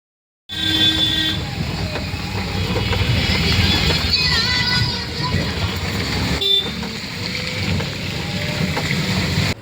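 A train at a busy railway station rumbles loudly and continuously, with a horn toot and clattering carriages over crowd noise, starting abruptly after a short silence.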